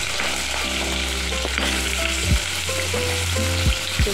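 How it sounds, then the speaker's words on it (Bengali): Taro and potato pieces frying together in hot oil for a vegetarian curry make a loud, continuous sizzle, with a hum and a few stirring knocks toward the end. "কেটে ধুয়ে রাখা কচুটা আর আলুটা একবারে দিয়ে দেবো, একসঙ্গে আমি ভালো করে ভেজে নেব"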